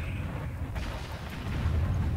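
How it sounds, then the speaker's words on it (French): Rumbling fireworks-like explosions from the strategy game Warzone 2100, several low booms that overlap into a continuous roar and swell louder toward the end, with no speech. "Les petits feux d'artifice."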